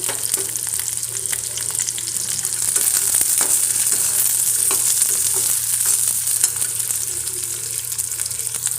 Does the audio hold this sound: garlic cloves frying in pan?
yes